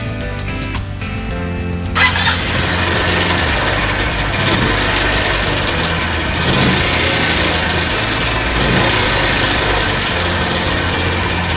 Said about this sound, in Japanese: まずエンジンかけないとね。